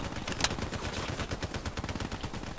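Rapid automatic gunfire in the first-person shooter Black Ops 3 multiplayer, a steady rattling stream of close shots with one sharper crack near the start, moderately loud and continuous.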